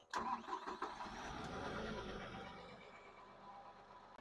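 A Komplet Kompatto 5030 diesel unit cranks and fires up, its engine catching with a loud burst and then settling into a steady mid-pitched running rumble that fades slightly, with no talking.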